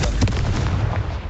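A blasting spell goes off in Hogwarts Legacy, a dense, roaring burst of explosive noise that fills the whole short moment with rumbling crackle and no pause.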